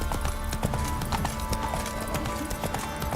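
Hooves of Roach, the horse from The Witcher, clip-clopping in a quick, steady rhythm, close and continuous over a dense background of other noise.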